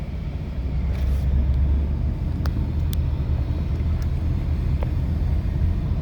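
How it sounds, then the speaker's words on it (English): A feller buncher logging machine drives out of the winter woods with a steady, heavy diesel rumble. Faint clanks and creaks sound over the constant engine drone. "There's Dad with a feller buncher bringing that out"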